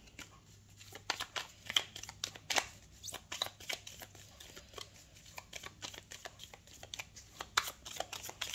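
A tarot deck being shuffled and cards drawn, giving a continuous run of crisp riffling flicks and soft slides, close and moderately quiet, with no talking.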